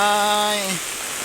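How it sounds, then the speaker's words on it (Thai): Rain falls outdoors as a steady soft patter on surfaces, with a brief sustained tone at the start that fades as the rain continues alone. "เป็นภาพบรรยากาศฝนตก"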